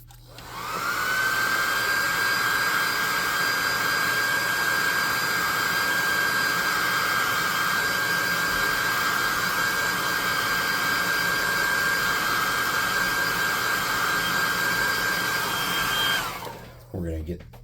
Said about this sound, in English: Let's hit this with a hot air gun again.